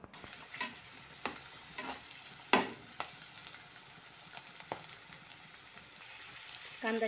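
Onion frying in a pan gives a soft, faint sizzle, broken by scattered scrapes and taps as it is stirred, with no talking.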